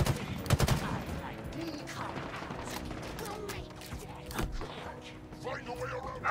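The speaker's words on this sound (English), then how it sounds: "How is he shooting me from there?" Gunfire from Halo Infinite multiplayer, with repeated bursts of automatic fire and a few heavier thuds crackling over busy game noise while a player talks throughout.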